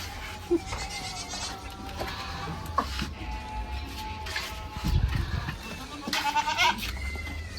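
Karumbi goats, a very small goat breed, bleat repeatedly at irregular intervals, with several loud close calls over a busy farm-shed background.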